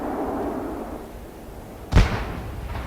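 At a raceway after a street stock championship race, a single firework bursts with one sharp, fairly distant boom over a low crowd and ambient rumble.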